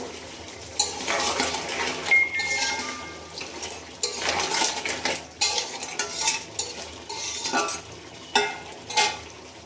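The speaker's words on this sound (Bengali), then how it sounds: "কাঁকড়াটা মশলা দিয়ে খুব সুন্দর করে কষানো হচ্ছে" Crab pieces being stirred with spices in a hot pan, repeated scraping and clattering strokes of a spatula over a softer underlying sizzle, loud and close.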